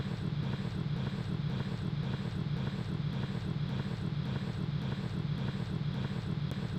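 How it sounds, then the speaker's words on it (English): Falcon 9 rocket lifting off from Space Launch Complex 40 at Cape Canaveral Space Force Station, its engines giving a steady, dense low roar that holds unbroken at a constant loud level throughout. "Falcon 9 has successfully lifted off from Space Launch Complex 40 at Cape Canaveral Space Force Station."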